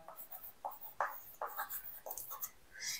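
Pen strokes scratching across paper during a Bengali grammar lesson on sentence conversion, a close series of short, uneven scribbling bursts with brief pauses between words.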